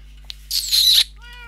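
A Minecraft cat gives a single meow, fairly loud and alone, with a brief click just before it.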